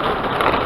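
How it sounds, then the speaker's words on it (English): Steady rain falls outdoors on a rainy day while digging cuttings, a dense, continuous hiss that is loud and close throughout the brief moment with no speech. "No sooner as I walked outside, the rain came."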